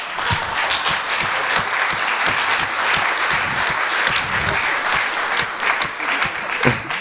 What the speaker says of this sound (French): quand vous applaudissez là, vous applaudissez tout le travail d'une section